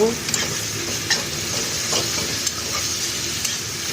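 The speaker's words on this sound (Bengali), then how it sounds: "নাড়াচাড়া করবো" Food frying in white oil with a mustard-seed tempering in a pan is stirred briskly. A loud, continuous sizzle is broken by scraping and clattering stirs at close range.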